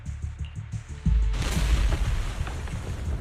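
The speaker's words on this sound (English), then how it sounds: "several explosions are up, followed by tremors in the ground" Explosions in the video game Zenless Zone Zero: thudding impacts give way to a sudden, loud booming blast that rolls on into a sustained, heavy rumble.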